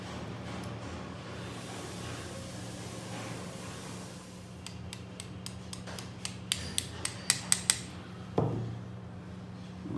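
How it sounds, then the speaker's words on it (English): Small metal parts of an FN Browning 32 pistol click and tap as a pin goes into the receiver: a run of sharp, close ticks building in loudness, then one heavier knock over faint background hum. "Make sure the holes are aligned with the receiver and then you can insert the pin."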